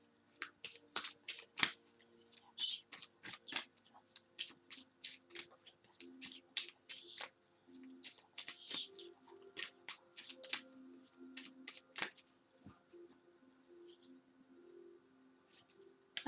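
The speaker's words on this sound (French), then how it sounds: "Je vais brasser les cartes." Tarot and oracle cards being shuffled by hand, a steady run of crisp riffling flicks and soft slaps over about sixteen seconds, close and fairly quiet, with faint low hum beneath.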